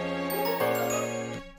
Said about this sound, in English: I add a pizzicato string on top of that, which is a very common layering technique that I do.